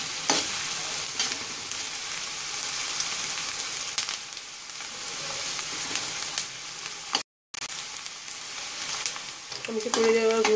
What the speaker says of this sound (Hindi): प्याज को तब तक भूनेंगे जब तक इसका रंग गोल्डन ब्राउन नहीं हो जाता, तब तक हम प्याज को भूनते रहेंगे लगातार चलाते हुए।